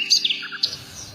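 A cartoon sound effect of a tailorbird chirping gives a quick run of bright, high tweets, close and clear, over about a second.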